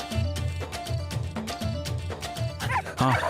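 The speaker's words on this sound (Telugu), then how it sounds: "కుక్కలు మరుగుతున్నాయి. విన్నావా సుమా?" Dogs bark repeatedly in a quick, uneven series of yips and woofs at moderate distance, ending in a louder, higher bark; the scene is from a Telugu television drama.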